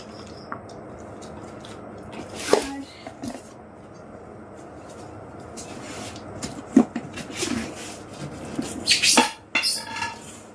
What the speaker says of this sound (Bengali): এটা হচ্ছে বড় সাইজের প্লেট